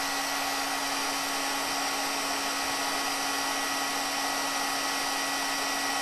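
Close, continuous roar of a heat gun melting metallic embossing powder on a Christmas card, a constant airy blast with a steady tonal hum and no talking.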